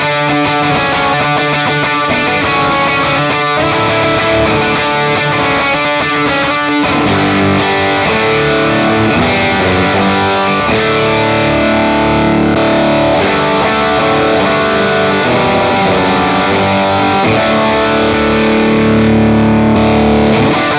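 An electric guitar runs through a Spark Mini Boost pedal on a worship pedalboard, producing loud, continuous driven chords and sustained notes with a thick, pushed tone that plays uninterrupted for about twenty seconds, with no talking.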